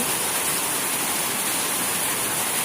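Heavy rain falling outside, a dense, steady hiss of downpour that continues evenly for the whole stretch with no talk.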